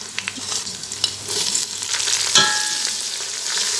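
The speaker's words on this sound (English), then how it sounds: "Add onions, chilies. Cook until it becomes soft." Onions and green chilies frying in a pan for pulao, a few spoon taps at first, then a loud, close, continuous sizzle that swells and stays strong, with no speech.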